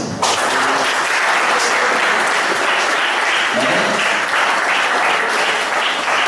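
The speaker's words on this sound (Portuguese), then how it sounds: "aplaudir o Senhor Jesus" Church congregation breaking into loud, dense applause that starts abruptly and carries on evenly throughout, a close, full wash of many hands clapping together.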